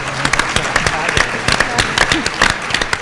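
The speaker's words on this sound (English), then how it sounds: "Give her a round of applause for that." A room of people at a civic year-in-review forum breaks into applause, a brief spattering of clapping with distinct sharp hand claps, and voices talking under it.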